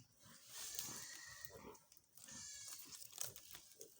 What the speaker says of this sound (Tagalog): Ang baboy umiiyak na, gutom na.